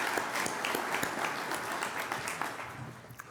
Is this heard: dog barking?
no